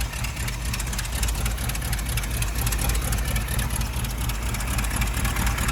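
A Dodge truck engine idles steadily and smoothly, a continuous low rumble holding even for the whole stretch with no voices over it; the truck has a newly swapped alternator.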